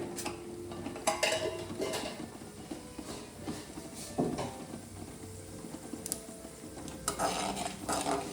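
Chana dal and urad dal fry in a pan for lemon rice, a soft sizzle under scattered stirring clinks and scrapes of a spoon against the pan, fairly quiet and close.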